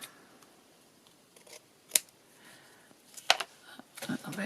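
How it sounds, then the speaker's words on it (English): A few sharp, quiet snips of scissors cutting paper, scattered irregularly with soft rustling between them. "I'll just get the glue off before I get my scissors into it."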